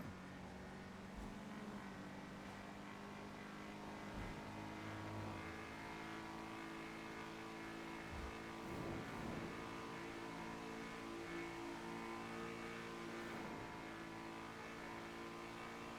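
A battered car in GTA V roleplay drives steadily with its engine droning and revving up under acceleration, a continuous close motor tone with no talk over it.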